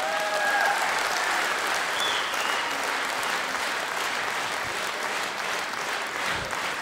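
Audience applause for a satire comedian on stage: dense, steady clapping from a large crowd that sustains at an even level throughout with no talk over it.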